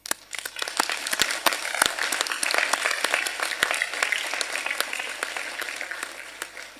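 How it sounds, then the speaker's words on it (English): Conference attendees at an expert meeting clap in a loose, moderately paced round of applause, individual claps sharp and distinct, fairly close and continuing for several seconds. "I think you all deserve an applause"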